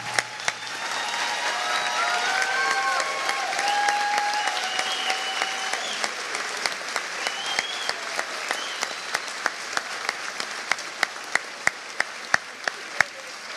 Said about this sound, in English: They're cheering for you.